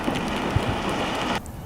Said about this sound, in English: Hail's a bit thicker here